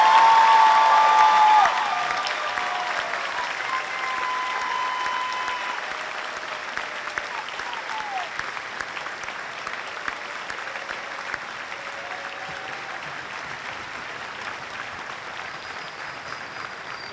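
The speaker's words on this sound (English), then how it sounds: "please join me in a final round of applause for Class 173" An audience gives a final round of applause for Police Academy Class 173 at the Golden West College Regional Criminal Justice Training Center graduation, loud at first, then settling into lighter, sustained clapping that thins out over the following seconds.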